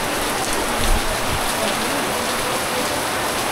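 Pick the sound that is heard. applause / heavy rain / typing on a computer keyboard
heavy rain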